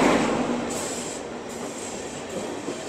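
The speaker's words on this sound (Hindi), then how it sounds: "पहले ट्रेन आ जाती है" The Chhattisgarh Sampark Kranti Express pulls into a station platform behind a WAP-7 electric locomotive, a steady close rumble of rolling wagons with a hissing high-pitched whine running throughout.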